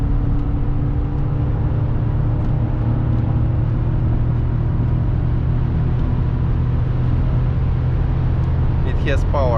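A BMW X5 E53 4.4i V8 with a 309 hp remap drives at full throttle on the autobahn, heard from inside as a loud, steady deep engine drone blended with road and wind rumble.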